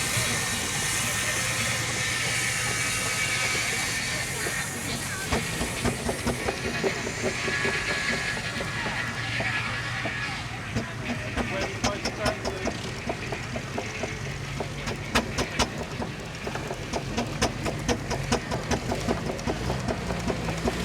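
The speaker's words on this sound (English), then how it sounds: "Now we have a 6-inch or half-size Garrett tractor" A half-size, 6-inch scale Garrett steam tractor runs at a vintage steam show, giving a steady hiss and chuffing with rhythmic mechanical clatter under broad outdoor crowd and machinery noise, moderately close throughout.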